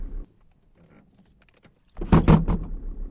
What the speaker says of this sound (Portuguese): Esse botão aqui serve para rebater os encostos de cabeça traseiros.